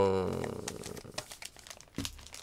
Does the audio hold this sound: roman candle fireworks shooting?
no